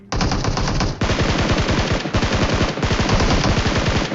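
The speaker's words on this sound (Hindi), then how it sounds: "यहाँ पे मैंने जो है बार बार फायर रोक के स्टार्ट किया" Rapid automatic gunfire from a shooter video game, loud and close, firing in sustained bursts that stop briefly and restart several times.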